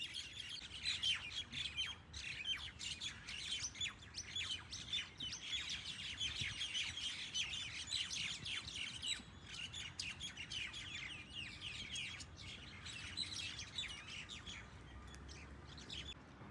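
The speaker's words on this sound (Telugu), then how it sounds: "పక్షులు ఎలా సౌండ్లు చేస్తున్నాయో" Birds squawk, chirp and call continuously in a park in the evening, a dense, busy chorus of overlapping sharp calls at moderate distance with no talk over it.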